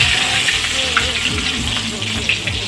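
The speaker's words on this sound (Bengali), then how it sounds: "মাছটা হালকা করে ভেজে নেব, বেশি ভাজলে ভালো লাগবে না, হালকা করে ভেজে নেব।" Steady, fairly loud sizzling of pomfret fish being lightly fried in oil in a home kitchen, a continuous crackling hiss with a few soft utensil knocks and no speech.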